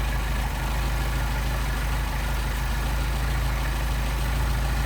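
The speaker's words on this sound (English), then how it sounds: "Here the idle pick up again." A Mercedes 190SL engine idles steadily while the idle mixture on its Solex carburetors is adjusted, a continuous loud, even rumble with a low throbbing pulse and no pauses.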